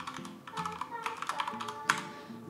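Close, quick typing on a computer keyboard: a rapid run of light key clicks with a louder tap near the end, and no one speaking.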